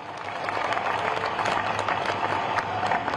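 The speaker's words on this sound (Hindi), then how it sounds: "एक बार जोरदार ताली आपकी बजनी चाहिए" Loud, dense applause from a large audience, steady clapping filling the whole stretch with a few voices mixed in.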